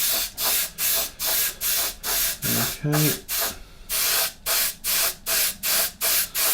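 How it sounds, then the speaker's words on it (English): Primer is sprayed onto a model aircraft aileron in short, regular hissing bursts from an aerosol can, about a dozen evenly spaced puffs heard up close, with a brief spoken word partway through. "we're just going to lightly just going to spray this"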